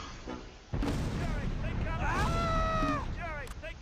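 Mortar rounds land in the WWII wargame Close Combat: Last Stand Arnhem as a heavy boom breaks out, followed by rumbling artillery blasts. A voice talks over the bombardment.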